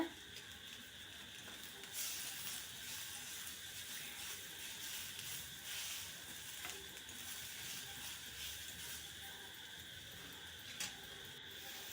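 Tomatoes sauté in a pan in a steady, faint, crackling sizzle that holds evenly throughout, with a few brief clinks and no talking.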